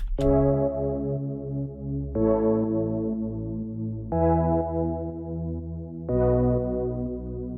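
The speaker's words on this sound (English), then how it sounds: "I loaded the chords into two synths" Four sustained tropical house synth chords from two layered synths, one a Serum preset, each struck about every two seconds and held, bright tones with a warm low end, no voices.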